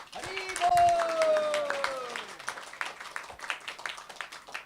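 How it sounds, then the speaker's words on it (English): A Sunday feast congregation claps for themselves, dense applause that swells then thins into scattered claps, with a voice crying out over the start. "So I would request everybody to clap yourself first. Big round of applause"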